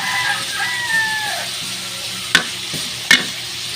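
Ginger being sautéed in a pan for batchoy gives a steady close sizzle and stirring. Two sharp metallic clinks of a utensil against the pan break in near the end, and a rooster crows faintly in the background.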